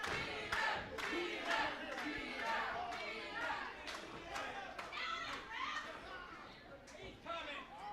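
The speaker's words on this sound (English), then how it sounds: "Listen to this crowd." A crowd at a live professional wrestling event roars and shouts around the ring, loud and dense throughout, with excited yelling, chatter and children's voices mixed in.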